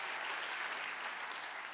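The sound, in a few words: congregation cheering and applauding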